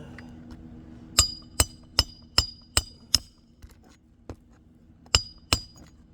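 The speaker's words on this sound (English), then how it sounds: "notice with each hammer blow on these shingles" Nails are driven into roof shingles with a hammer in a series of sharp metallic blows. About eight crisp strikes come at an irregular pace, each ringing briefly against a quiet background.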